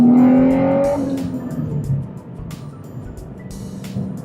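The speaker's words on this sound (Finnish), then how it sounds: "Mä kiihdytän 5 tonniin ja mä vaihdan sitten 3 sisälle" A 2003 Nissan Skyline 350GT's engine revs up loudly, then drops off sharply at a gear change, and the rising whine gives way to a quieter, lower running note.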